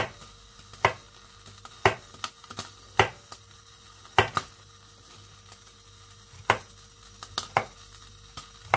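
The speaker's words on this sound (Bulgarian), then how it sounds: "Които ще запържа в малко неутрално масло. В случая моето е рапично." Chicken fillets frying in rapeseed oil in a pan, a low steady sizzle punctuated by sharp intermittent clacks and taps of a utensil against the pan at irregular intervals.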